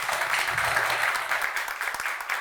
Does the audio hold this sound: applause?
yes